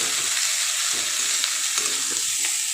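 Eggs frying in a pan give a steady, close sizzle with light crackling and faint stirring, continuous and without speech.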